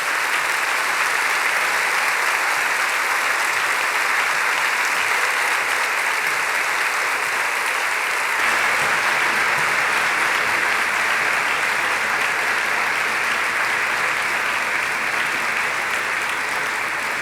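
Sustained applause from a large church congregation, dense steady clapping that carries on for many seconds without a break.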